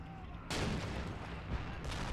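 Mortar fire in a 1941 Russian line-defense battle with the RobZ Realism Mod: a sudden loud blast opens a dense, sustained roar of explosions and gunfire, with further heavy impacts about a second later.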